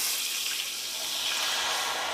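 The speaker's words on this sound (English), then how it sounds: "I have a can of chicken broth going in" Canned chicken broth pours into a pan for brown gravy, a soft steady liquid splash and trickle heard up close and alone.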